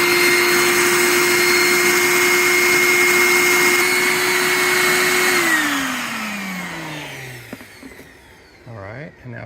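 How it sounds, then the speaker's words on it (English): A suction device runs steadily over a carpet seam during a patch repair with a glide seamer, a loud droning whine that holds, then winds down in pitch and fades near the end, with no talk. "As soon as it's done, we put our suction device on it. This is going to pull it up and cool it."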